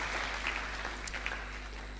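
Applause from a church congregation during a French and Swahili worship service, a steady, dense wash of clapping that holds evenly for the whole stretch.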